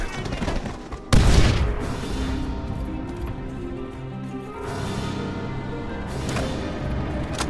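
Gunfire and explosions in the World War II shooter Call of Duty: World at War, with a heavy boom near the start and then sustained rattling fire and rumbling battle noise.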